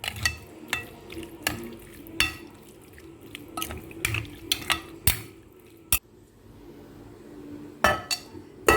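Spoon scraping and clinking against a bowl while spices are mixed into chicken, a series of irregular sharp taps and scrapes over a low background hum, close and moderately loud, with no talking.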